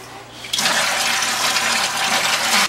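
Water suddenly starts gushing at about half a second and keeps pouring in a steady, loud rush as it drains out of a home boiler heating system.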